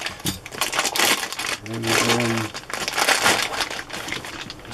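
Sealed plastic packaging around a military surplus NBC suit of olive trousers is being cut open, giving crinkling and rustling plastic with a short tonal scrape in the middle, close and continuous, with a brief spoken word.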